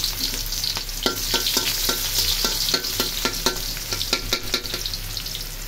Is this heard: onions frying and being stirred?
yes